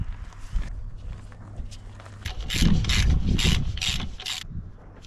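A grease gun works a new grease nipple on an excavator, giving close mechanical creaks and rubbing clicks that build into a louder grinding stretch in the middle, with no one talking.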